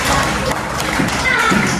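A class of children in a lesson applaud together, with a burst of claps and thumps mixed with children's voices and chatter, close and fairly loud.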